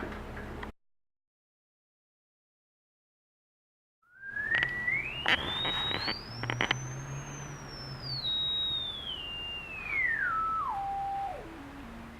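A pure electronic sine tone from a frequency generator app sweeps smoothly upward, holds high, then steps back down, steady and clear after a short silence, with faint ticking underneath.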